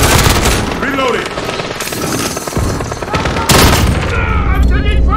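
Dense, continuous gunfire from a Modern Warfare Team Deathmatch match, with rapid automatic bursts and overlapping shots that stay loud throughout, and voices shouting over the battle.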